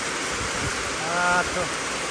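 Heavy rain pouring down onto a rice field on sowing day: a constant, hissing wash of water close by, with a faint voice cutting in briefly midway.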